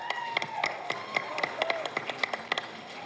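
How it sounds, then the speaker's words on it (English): An audience at a film trailer launch event applauds an actor taking the stage, with sharp individual claps in a loose, uneven rhythm over a low hall ambience. "Let's welcome with a big round of applause a charming actor"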